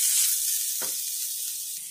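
Soy chunks (meal maker) sizzle and hiss as they fry in hot oil over a low flame for a veg kheema dosai, with a couple of soft stirring scrapes breaking the steady frying noise.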